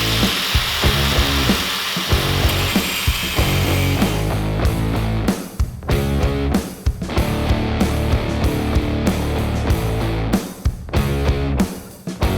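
A power saw cuts 45-degree angles through 1/8-inch-thick steel square tubing with a loud, continuous rasping grind, broken by brief pauses and rhythmic bursts as the blade works through the metal.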